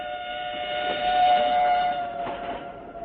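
A passenger train runs on rails from Chiang Mai to Bangkok, Thailand, a steady rolling drone with tonal hum, swelling slightly in the middle and easing again.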